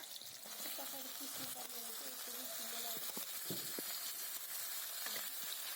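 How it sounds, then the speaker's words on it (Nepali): Tomatoes sizzle and fry in a pan with onions for momo chutney, a steady crackling hiss throughout, with faint clinks and stirring. "म टमाटर राख्छु यसमा।"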